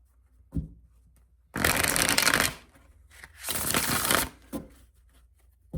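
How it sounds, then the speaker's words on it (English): Two bursts of tarot cards being shuffled, crisp riffling flutters each lasting about a second, with soft clicks and handling noises between. "All right, let's shuffle one more time."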